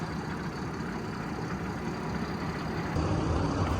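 A tractor engine idling at around 400 RPM gives a steady, low, quiet rumble close by, holding even for the whole stretch with a slight rise near the end.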